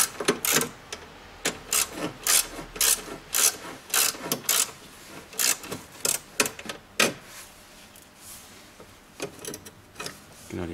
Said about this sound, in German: Und dann kann man den Mikrofilter herausnehmen.